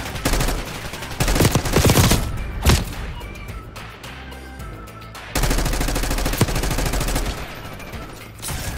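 Bursts of automatic gunfire in Black Ops 6 come loud and close in two clusters with a quieter gap between them, mixed with sharp single shots and thuds, and no talk over them.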